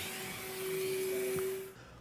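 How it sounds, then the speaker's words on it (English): A vacuum cleaner runs with a steady whining drone and rushing air, then its pitch drops as it powers down. "A great vacuum makes cleaning really easy."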